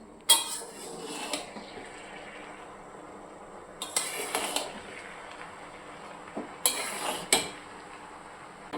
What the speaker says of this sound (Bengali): পুরো ভাতটাকে দিয়ে দিলাম এরপর হালকা হাতে মানে খুলতে দিয়ে হালকা করে সাবধানে নাড়াচাড়া করে মিশিয়ে নিচ্ছি